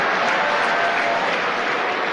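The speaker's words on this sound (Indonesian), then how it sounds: "tepuk tangan buat yang udah lari dan balik lagi Bapak Ibu" Audience applause for participants who ran and came back during an Indonesian motivational talk, a dense steady wash of clapping throughout, with no speech over it.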